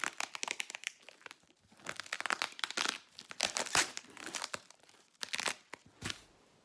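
Packing tape on a parcel being wrestled with up close, giving a steady run of crinkling, crackling plastic with short tearing rips in irregular bursts, with no talking.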